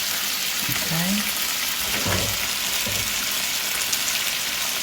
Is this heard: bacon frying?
yes